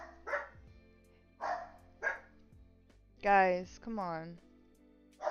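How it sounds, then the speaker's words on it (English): Toby, a dog, gives several short barks and yips close by, with a longer whining bark near the end. A person speaks briefly between the barks. "No, no barking"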